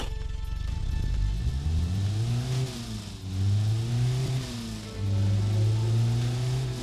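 A 96-horsepower car engine revs up and down in repeated swells, a loud, close, throaty drone that rises and falls in pitch several times with no talking.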